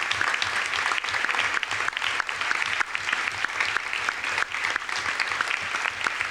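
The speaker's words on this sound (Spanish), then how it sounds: "merece un aplauso de todas nosotras" A seated audience at a book presentation held in a congress hall breaks into dense, continuous applause, a full and even roar of clapping that carries on unbroken from start to finish.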